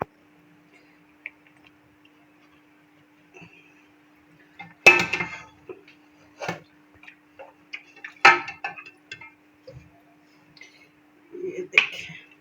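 Nalli korma being served into a dish: a few sharp clinks of a spoon against metal or ceramic, spaced several seconds apart with faint scrapes between, close and otherwise quiet.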